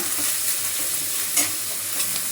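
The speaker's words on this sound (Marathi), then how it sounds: "आता गॅस थोडासा कमी केला आहे. जराशी जे हिरवी मिरचीचं आहे ना तिखटपणा कमी होईल. जराशी भाजून घेतली." Green chilies, garlic, cumin and chopped curry leaves sizzle and fry in a pan over lowered heat, a steady close crackling hiss with a couple of stirring scrapes.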